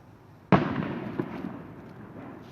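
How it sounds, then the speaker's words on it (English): A single firework bursts with a sharp, loud crack at a Halloween gathering by abbey ruins, then a long crackling, rumbling decay trails off in the open air. "That was a firework"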